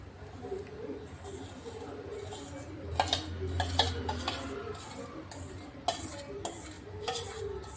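A spoon scrapes and clinks against a pan while gram flour is stirred into sticky sugar syrup for ghee Mysore pak. The strokes are steady and near, with a few sharper metallic taps.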